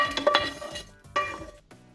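Sausages are dropped into a slow cooker already holding carrots, celery and onions, giving two clattering bursts of clinks and knocks against the pot, close and fairly loud, with a short pause between them.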